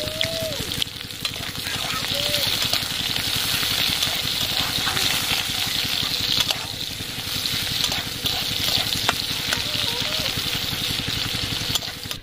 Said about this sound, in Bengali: এর মধ্যে কুচি করে রাখা পেঁয়াজ দিয়ে দিচ্ছি